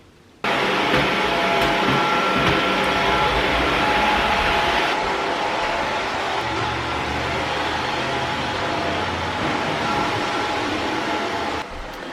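A vacuum cleaner starts up abruptly and runs with a loud, steady whining roar close by, its pitch shifting slightly midway before it cuts off at the end.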